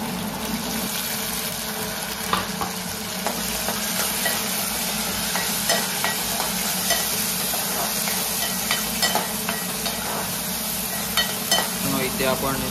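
Onion, curry leaves, tomato and potato fry in hot oil for a fish dish, a steady close sizzle broken by scraping stirs and light clacks, with a person talking throughout.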